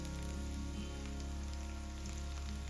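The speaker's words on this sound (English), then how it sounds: "All the chopped garlic goes into the pan, and I stir it through the golden onion." Chopped garlic sizzles in hot fat alongside golden onion in a pan, a steady, dense crackle that holds even and continuous throughout, with no voices.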